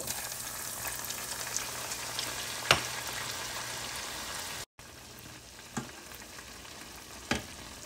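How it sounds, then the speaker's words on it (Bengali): Noodles fry in hot oil, a steady close sizzle and bubbling with a few sharp clinks of a utensil stirring the pan, no voices. "এখন নুডলসগুলো দিয়ে দিচ্ছি, দিয়ে সেম প্রসেসে ভেজে নেব।"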